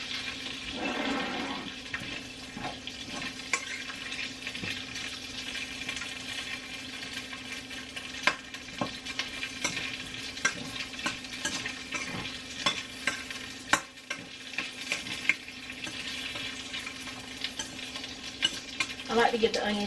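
Onions sizzle and fry in a pan while a utensil stirs and scrapes them at intervals, a continuous close crackle with scattered clinks and a few louder knocks, no talking.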